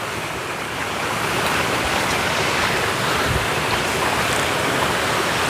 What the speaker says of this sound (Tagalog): tatawid po tayo ngayon ng Sapa